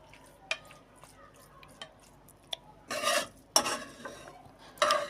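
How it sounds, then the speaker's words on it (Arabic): Pasta with sauce stirred in a pot, with scattered light clinks of a spoon against metal and a few louder wet scraping sweeps, close and uneven. "في الاخر قلب بقية المكرونة في الحلة، صلصة والحاجات دي"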